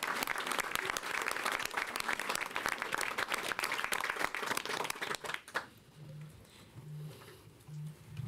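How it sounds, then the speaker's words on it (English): Loud applause from a crowd at a New York City mayoral health care announcement, dense clapping for about five and a half seconds before it drops away abruptly to a quiet room. "Everyone, give your neighbor a round of applause."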